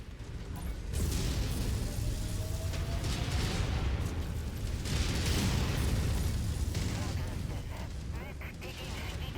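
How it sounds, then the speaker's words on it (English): Incoming missile blast in a BattleTech-style mech combat video game set in 3033, a loud sustained rumbling explosion with bursts of impact and mechanical noise filling the whole stretch. "Incoming missile."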